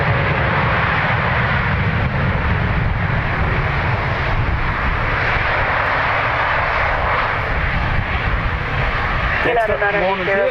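A United Dreamliner with GEnx engines roars loudly in reverse thrust as it lands, a sustained broad rumble filling the whole stretch before tapering, with a brief radio-style voice at the end.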